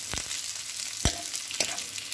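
Garlic and onion sautéing in oil while browning, a constant hiss of frying with three sharp utensil knocks or scrapes spaced across two seconds, close and clear, no talking.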